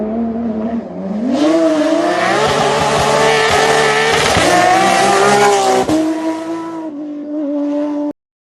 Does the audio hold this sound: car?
yes